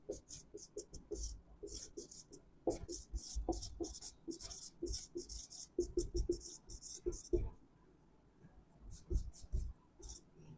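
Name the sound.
writing with a pen on paper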